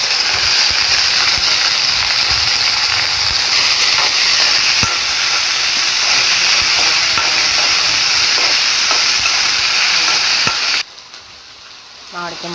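Food frying in hot oil until golden, a loud, dense, continuous sizzle with crackles, cutting off abruptly near the end to quiet room tone.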